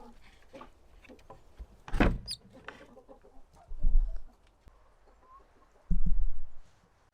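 A Delaware rooster in a breeder pen with Sussex hens gives a few short, loud clucks and squawks in separate bursts, with quiet yard noise between them and no talking.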